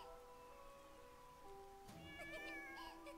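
A cat meows a few times in the video game Balan Wonderworld, the cries rising over sustained background music toward the end.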